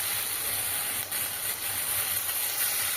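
Spice paste for rajma sizzling as it is sautéed in a pan, a steady close hiss that continues unbroken with no voices.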